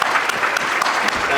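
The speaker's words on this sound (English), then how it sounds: "Let's give them a round of applause." Audience applause at a Suffolk State of the City address, a steady, dense clapping from a room full of people lasting just over a second, loud and continuous.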